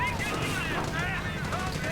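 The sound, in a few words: gunfire and machine guns in a strategy video game battle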